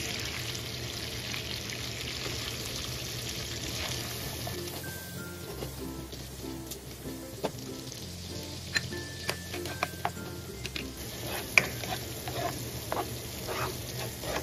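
Garlic and onion frying in a pan, a continuous soft sizzle with a low background hum and a few light taps and clicks toward the end.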